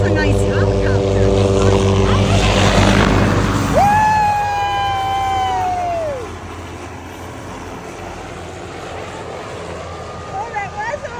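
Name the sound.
MH-6 Little Bird helicopters flying past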